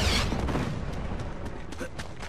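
Explosions in the Uncharted 3 video game boom with a heavy low rumble at the start, followed by scattered crackling blasts and debris under faint game background sound.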